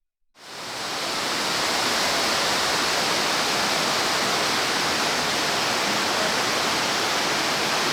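Etler waterfall in Serik, a high, fast-dropping fall over moss- and scrub-covered rock, roars in a steady, dense, loud rush that fades in at the start and holds unbroken, with no voices.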